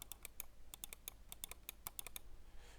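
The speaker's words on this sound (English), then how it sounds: "So that is the clicking sound." Logitech Superlight lightweight mouse buttons clicked repeatedly, a steady series of sharp, crisp clicks heard close up over a faint low hum, with no voices.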